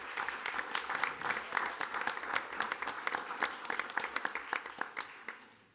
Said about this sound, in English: I think that deserves a round of applause from everybody